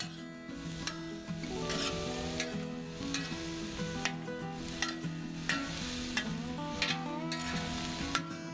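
Ingredients stir-fried at high heat on a flat cooking disc, a loud continuous sizzle with repeated scraping and rubbing strokes of a utensil pushing food to the sides.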